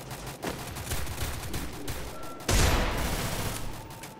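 Gunfire from the mobile shooter game Free Fire, with bursts of rapid shots and a louder volley partway through, over a steady game soundscape.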